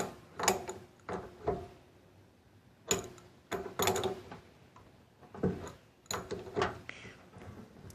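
A tool tightens a battery terminal on a Troy-Bilt riding lawn mower, heard as close, sharp ratcheting clicks in short irregular bursts separated by brief pauses.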